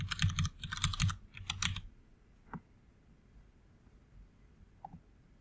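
A computer keyboard is typed on in three quick bursts of close key clicks while a password is entered, followed by a couple of isolated faint taps and near quiet.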